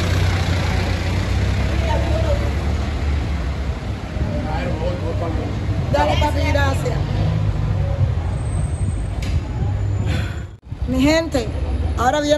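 A car pulls away from a house in Cuba, its engine and road noise rumbling steadily under ongoing talk and background voices, with a brief lull near the end.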